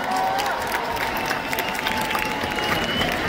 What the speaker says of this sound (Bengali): জোরে হাততালি চাইবো সবার কাছ থেকে